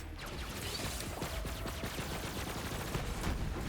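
Rapid automatic fire from a flaming machine gun in the Borderlands 3 shooter game rattles continuously for several seconds, dense and unbroken, mixed with impact and battle noise and no talk.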